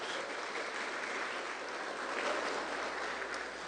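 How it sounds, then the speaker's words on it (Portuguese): A church congregation at a Sunday service applauds steadily, a dense, sustained wash of clapping from many hands that holds evenly throughout with no talk over it. "dê uma forte salva de palmas para o Senhor Jesus"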